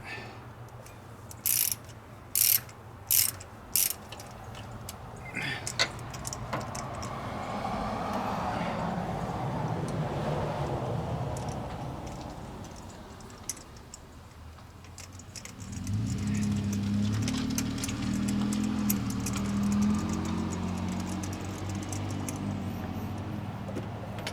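A ratchet working a spark plug out of a high-mileage car engine, with a few sharp clicking bursts early on, followed by sustained mechanical rumble, occasional metallic ticks, and voices in the background.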